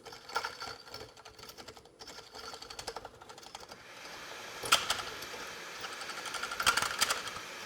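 Number 1 Hunter cutter running and cutting into wood, a fast, rapid mechanical chatter with a high whine, fairly faint, pulsing and growing busier as the cut continues.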